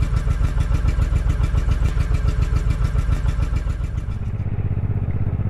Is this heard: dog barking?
no